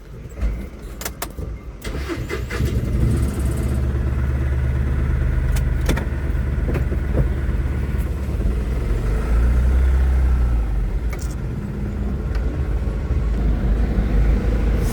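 A loaded goods vehicle's engine starts and then runs steadily as it pulls away, a loud continuous motor drone with no voices.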